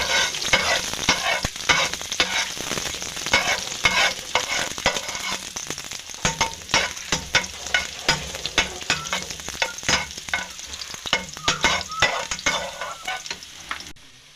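Chopped garlic hits hot oil in a pan for Filipino beef caldereta, giving a loud, steady sizzle dotted with sharp crackles and scraping stirs throughout, with no voices.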